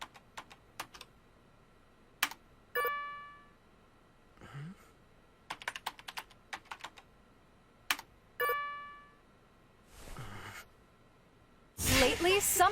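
Short bursts of typing on a computer keyboard clatter in quiet gaps, separated by brief chimes and soft game sounds, with a louder noisy burst at the end.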